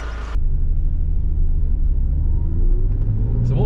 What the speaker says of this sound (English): It's got a lovely engine note, an exhaust note.